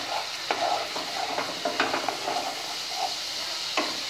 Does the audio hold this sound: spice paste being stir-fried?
yes